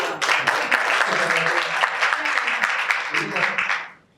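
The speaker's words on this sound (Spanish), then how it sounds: "Un aplauso para el público." Audience applause at a panel discussion: steady clapping from a room full of people, dense and sustained for about four seconds before fading out at the end, with some faint voices mixed underneath.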